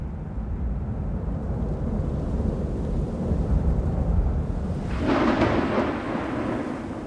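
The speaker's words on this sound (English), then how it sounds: "Thunder and lightning has always played a major role in the history of humanity." Thunder rolling through a summer storm in the mountains, a loud, steady low rumble that swells into a heavier crack-like burst near the end.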